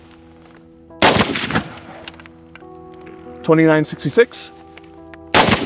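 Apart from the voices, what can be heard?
rifle gunshots from US Army next-gen rifle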